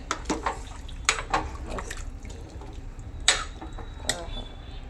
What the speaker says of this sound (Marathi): गरम पाणी हे थोडं थोडं टाकणार एकदा जास्त नको